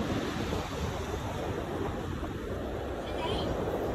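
Ocean waves wash against a jetty while the tide rises, a steady broadband roar of surf mixed with wind buffeting the microphone, with no break in the sound.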